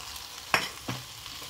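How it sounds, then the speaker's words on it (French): Potatoes browning in a pan for a potato velouté: two short scraping stirs stand out over a faint, quiet sizzle. "Je vais laisser encore rissoler avec les pommes de terre 5 minutes."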